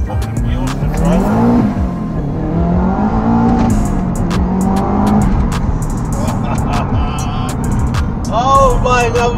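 A tuned Subaru accelerates hard with its wheels spinning, the loud engine note climbing and falling through revs with tire squeal, close and continuous for several seconds.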